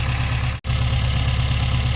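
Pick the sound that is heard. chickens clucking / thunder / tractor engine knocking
tractor engine knocking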